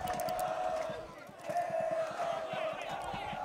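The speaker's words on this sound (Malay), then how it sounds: "Tidak henti-henti penyokong-penyokong BP Cougars yang berada di tepi padang ini bersorak BP Cougars" Sideline supporters cheer and chant continuously at a school rugby quarter-final, a dense crowd noise with rhythmic swells, somewhat distant, running under a commentator's voice.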